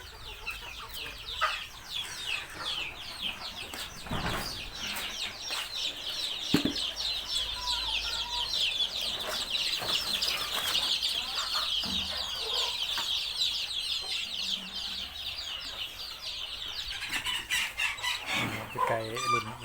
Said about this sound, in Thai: ไก่รุ่นใหม่เนาะ